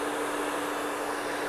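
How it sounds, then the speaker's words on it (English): Handheld blow dryer running steadily at close range while drying hair on a mannequin head, a continuous loud whooshing roar with no voices. "working my blow dryer forward"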